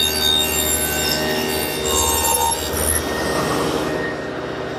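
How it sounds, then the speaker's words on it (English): A table saw fitted with a dado head cuts grooves into plywood edges, a loud continuous grinding whine that changes pitch as the cut goes on, then tails off near the end. "Now we'll run a groove on all 4 edges."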